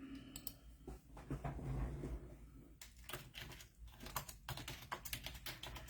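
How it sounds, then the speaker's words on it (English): Quiet keyboard typing, with rapid irregular clicks of keys in short bursts and pauses, close by in a hushed room. "So I'm just typing in the comments"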